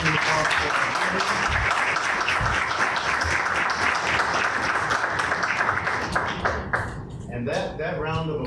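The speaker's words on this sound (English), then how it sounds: "And that round of applause, and I'll use my outdoor voice as well, was for, again, the history and the legacy that they have made for all of us." An audience at a panel discussion and exhibit breaks into loud sustained applause, a dense wash of clapping with some voices mixed in, thinning out and tapering off toward the end.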